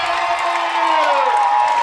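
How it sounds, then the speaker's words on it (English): A crowd at a high school football game, Potosi at Perryville, cheers and whoops after an interception, loud sustained roar with raised voices standing out. "the crowd is loving it"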